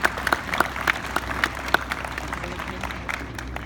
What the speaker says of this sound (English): Please give these folks a well-deserved round of applause.